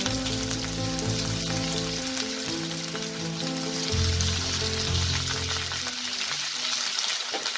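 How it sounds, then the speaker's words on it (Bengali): Potato and radish pieces frying in hot oil, a loud, dense, continuous crackling sizzle close up, with a faint low hum underneath and occasional stirring. "এই দুটো সেদ্ধ হতে যেহেতু একটু টাইম লাগে, তাই এই দুটোকে আমি এখানে হালকা ভেজে নেব।"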